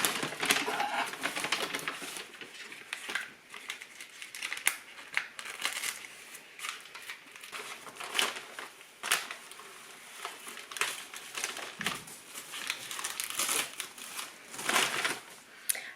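Surprise wrapping paper crinkles and rustles in irregular close bursts while a plant cutting is unboxed, crisp crackles coming and going over a quiet room.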